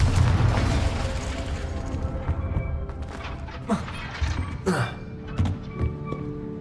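Confringo blasting-spell explosions in Hogwarts Legacy erupt over a rumbling battle backdrop as a series of sharp booms and heavy thuds, several spaced bursts in the second half, with faint voices mixed in.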